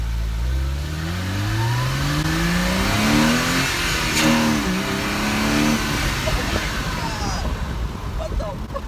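Porsche Cayman engine heard from inside the cabin with the engine cover removed, revving hard with a rising, race-car-like roar that climbs and falls through several gear-like sweeps, loud and close throughout.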